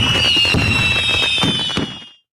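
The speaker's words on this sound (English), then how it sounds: "Fireworks for Van Dijk." A fireworks sound effect fills the clip with close crackling bursts and sharp pops over a rising whistle, dense and loud, then fading out at the end; no one speaks over it.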